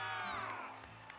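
Cheering and whooping crowd in the video game Genshin Impact, a short burst of voices rising together, moderately loud and fading slightly.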